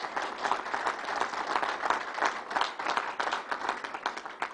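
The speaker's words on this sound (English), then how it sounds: "Let's give Jeff Wilpon a big round of applause." A crowd at a Belmont Park announcement gives Jeff Wilpon a round of applause, a steady, dense roar of many hands clapping at moderate distance, continuing throughout.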